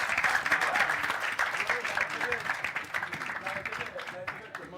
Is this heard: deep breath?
no